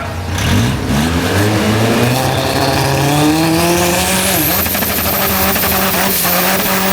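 A diesel drag race frame car accelerates hard with a loud, rising engine roar whose pitch climbs steadily through the gears over several seconds, close, continuous and dominant throughout.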